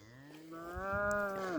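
A cow lows once at pasture, a long, close, rising-and-falling moo that swells in the middle and trails off, alone against quiet open air.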